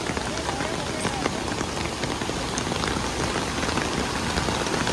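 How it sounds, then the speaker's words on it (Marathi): Heavy rain pours down during a river flood in a village near Sondheghar Dam, a dense, loud, unbroken roar of drops close by that fills the whole stretch. "खतरनाक पाऊस पडतोय."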